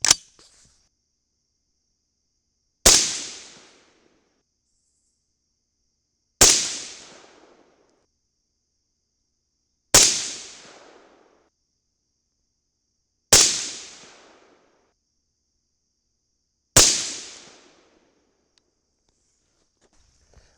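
Six sharp rifle shots at a steady pace a few seconds apart, each a loud crack with a decaying tail, fired with Hornady 55-grain FMJBT reloads over IMR 3031 powder; no talking.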